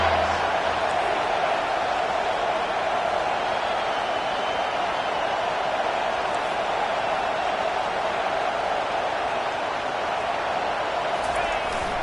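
A packed stadium crowd at a college football game, SMU against LSU, roars continuously on third down, a dense, loud, unbroken wash of noise with no let-up.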